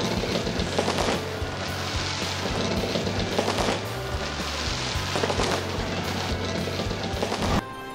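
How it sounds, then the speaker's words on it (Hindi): New Year fireworks over a city crackle and bang continuously for several seconds, dense rapid bursts layered into a loud, sustained barrage with repeated surges, no voices heard. "मुख्तलिफ शहरों में शानदार आतिशबाजी ने समा बांध लिया।"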